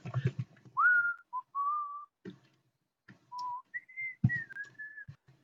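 A person whistles a short, wavering tune, a series of clear sliding and held notes with brief gaps between phrases, close and alone without talk.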